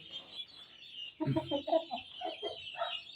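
A gamecock clucks in short, repeated bursts against a steady high hiss, the calls coming close together for a couple of seconds.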